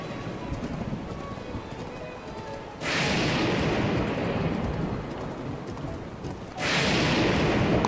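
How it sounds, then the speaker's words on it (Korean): A thunderstorm in Zelda: Breath of the Wild, with constant rain hissing underneath and two loud, sudden thunder crashes, each rolling on for several seconds. "번개가 미친 듯이 지네요"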